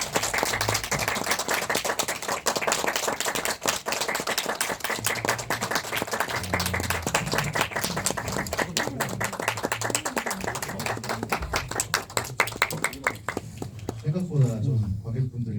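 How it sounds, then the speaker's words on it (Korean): A cinema audience at a post-screening talk for the film 잔챙이 applauds as the directors and actors enter, with dense, continuous clapping lasting the whole stretch and a few faint voices underneath. "감독님들이랑 배우님들을 좀 박수로 맞이하겠습니다."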